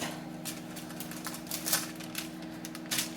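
A knife cuts butter for lotion bars in a quiet series of soft, irregular taps and clicks, close by and faint.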